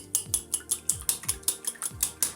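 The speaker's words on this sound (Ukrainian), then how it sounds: "Так, першим ділом збиваємо яйця." A whisk beats two eggs in a bowl for cupcake batter, with quick, evenly spaced clinking strokes against the bowl's sides, close and clear, about five strokes per second, heard alone.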